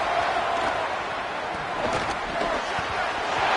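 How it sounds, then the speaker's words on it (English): A football stadium crowd roars steadily in a dense, continuous wash of noise, cheering on the defense before a big third down. "Big third down as the crowd gets behind this defense."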